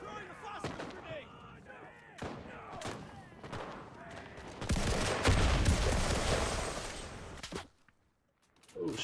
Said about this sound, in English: Gonna burn them with throwing white phosphorus. Throwing a phosphorus grenade.